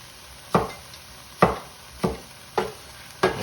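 A vegetable knife chops spring onions on a board in five separate, sharp, close thuds spaced irregularly, with a quiet background and no talk.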